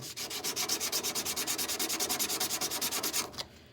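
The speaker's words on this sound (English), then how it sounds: "So I'm going to sand the edges like this, and you're going to kind of just go at a 45-degree angle with them." Rapid, rhythmic back-and-forth rasping of 80-grit sandpaper rubbed along the edges of a wooden coaster at an angle, about nine strokes per second, close and steady before stopping abruptly.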